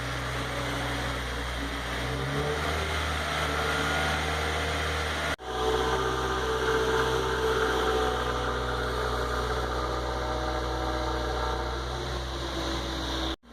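A stock 2015 Subaru WRX with a traditional quad-tip exhaust held steady at 2,000 RPM on a cold start, a loud continuous engine drone with a brief dip partway through and no talking.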